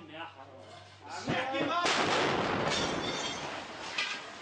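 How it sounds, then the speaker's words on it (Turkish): A bomb bursts nearby in a Syrian war zone, a sudden heavy blast that swells into a long roaring rumble and debris noise; someone speaks just before the impact. "Olduğumuz yere bir bomba düştü şu an"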